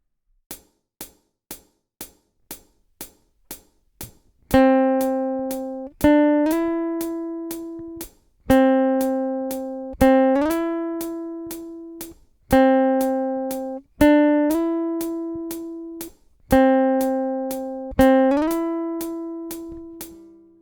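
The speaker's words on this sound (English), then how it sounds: "you pluck the string once and slide to the next note without repicking the string" A ticking metronome counts in, then a single guitar string is plucked once and slid up to a higher note without repicking, repeated six times with steady spacing.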